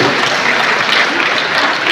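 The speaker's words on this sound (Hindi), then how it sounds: "और एक बार जोरदार तालियां बजे" Loud, dense applause from an audience at a town hall event in Buxar, a steady close wash of clapping that fills the short moment without pause.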